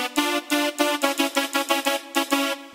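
Synth noise preset built in Serum with a ride cymbal layered inside, playing as a loud, rhythmic run of about a dozen short pulsing hits with a bright, hissy top and a steady tonal body, alone without voices.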